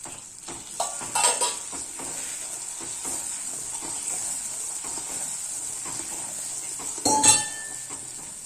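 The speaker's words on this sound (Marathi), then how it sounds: "चांगले हलवत राहूया" A spoon stirs chana dal pithale in a pan on the stove, with soft scraping and occasional metallic clinks against the pan over a faint continuous sizzle; a couple of louder clanks stand out.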